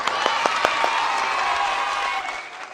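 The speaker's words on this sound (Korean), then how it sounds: "김희정 선생님과 이경숙 권사님께 우리가 감사의 박수 한번 보내겠습니다." Applause from a children's Sunday worship congregation thanking two departing teachers, a steady, moderately loud patter of clapping hands with a few sharper claps, fading out toward the end.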